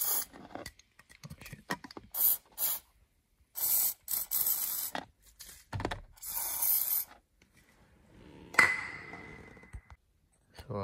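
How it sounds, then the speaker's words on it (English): WD-40 lubricant sprayed in several short hissing bursts around the steering axle of a Mazda RX-7 FD, close and loud, separated by brief pauses with faint handling clicks. "let's spray some more lubricant in the axle area"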